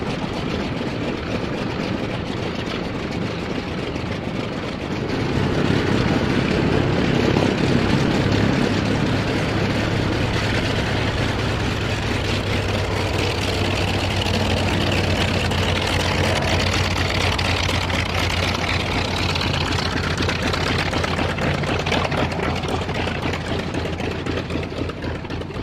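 A Yak-11 propeller aircraft with a large propeller runs its engine at Bakersfield, giving a continuous loud droning roar with a low throb that holds steady for the whole stretch.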